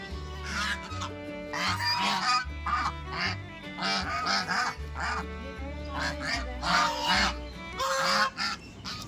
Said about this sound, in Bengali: যে পুকুরে কিন্তু রাজহাঁস ঘুরে বেড়ায়